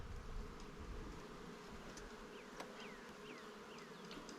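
Honeybees buzzing around an open hive, a steady droning hum with individual bees whining past close by, no voices.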